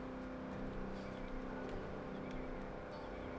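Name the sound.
vehicle engine roaring, from a video game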